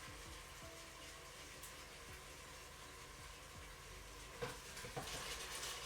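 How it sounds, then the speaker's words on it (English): Onions and garlic frying in the pot of a Crockpot Express pressure cooker, a steady, soft sizzle and hiss running throughout at low level, with a few faint clicks and stirring knocks near the end. "So we have the onions. Add those so we can fry those off."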